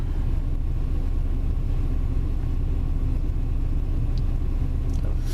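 CN rail grinder train 3114 passing in Ladysmith, a steady, loud, low rumble with constant mechanical grinding noise, close by and unbroken throughout.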